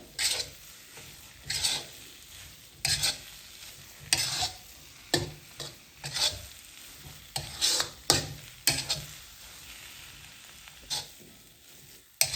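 Mashed carrot mixture for gajar pak cooking on low heat in a kadai, with repeated scraping and stirring strokes over a soft sizzle, close and fairly quiet, no voices.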